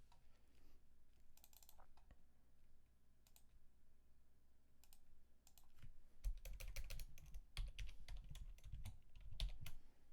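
Rapid clicking keystrokes on a computer keyboard, close and clear, with bursts of typing that grow busier and denser toward the end, no talking.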